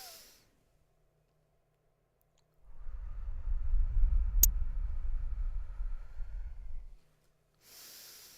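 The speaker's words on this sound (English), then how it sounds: "Let's take 3 breaths" Slow deep breathing during a seated guided meditation, one long soft exhale-like rush lasting several seconds in a quiet room, with faint breath sounds at the start and end and no talking.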